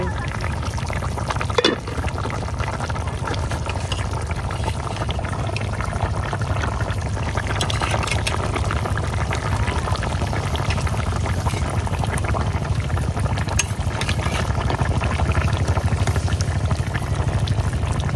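Pabda fish and squash curry cooking in a pot, a steady loud bubbling and simmering hiss with occasional clinks and stirring, continuous throughout.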